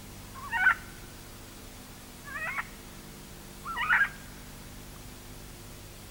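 Blue and gold macaws in the Amazon rainforest give three separate harsh calls spaced about 1.5 seconds apart, moderately close, over a quiet forest background.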